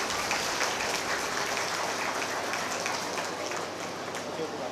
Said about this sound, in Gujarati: જોરદાર તાળીઓ થઈ.